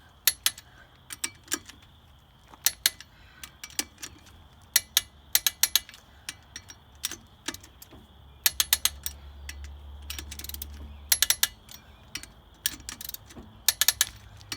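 A torque wrench clicks again and again while wheel spacer nuts are tightened on a 1992 Crown Victoria, with sharp metallic clicks in irregular pairs and bursts, close up, over a quiet garage background.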